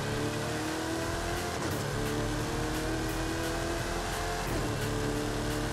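Car driving in Forza Horizon 5, its engine holding a steady, continuous drone with tire and road noise throughout, fairly close and with no talk over it.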